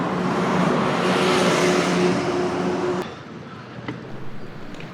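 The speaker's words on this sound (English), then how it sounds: "We negotiated the hectic big city traffic, through the city to our hotel room." Busy big-city car traffic in Geneva, a dense steady roar of engines and tyres close by. Midway it drops to a quieter, more distant wash of passing vehicles.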